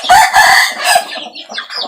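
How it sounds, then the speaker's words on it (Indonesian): A rooster crows loudly nearby, a drawn-out call followed by a few shorter trailing notes, with no talking. "ayam jantan"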